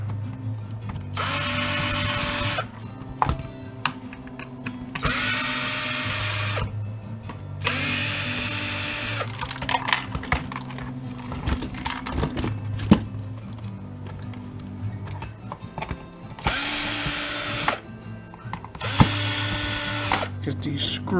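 A power drill backs screws out of a Husky jump starter being taken apart for scrap, with about seven whirring bursts of a few seconds each, separated by pauses filled with small clicks and handling taps.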